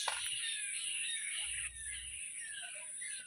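A crow caws outdoors, faint and distant, in a few scattered calls over steady high-pitched insect or ambient hiss.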